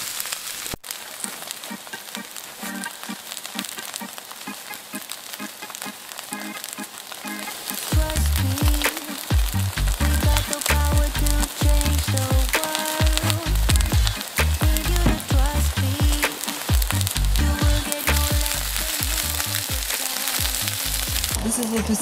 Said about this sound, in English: And then I'm going to plop my starched tofu right into the pan.